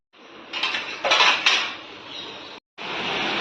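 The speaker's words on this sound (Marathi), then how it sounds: "रात्रीचे भांडे घासलेले तर ते लावून घेते" Freshly washed dishes and pots being stacked away in a home kitchen early in the morning: close, continuous clinking and clattering of metal utensils with louder bursts, a brief pause, then more steady rattling.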